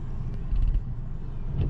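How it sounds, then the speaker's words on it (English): A Buick compact SUV rental car drives on winter roads. The engine and tire rumble is low and steady, with no voices. "At least I get to drive the rental car."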